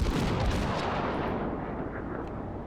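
Heavy naval guns on a warship in World of Warships fire as one loud, booming blast, and the sound rolls and fades slowly over the next few seconds with no talking.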